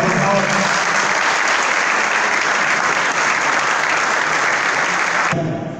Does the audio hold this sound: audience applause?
yes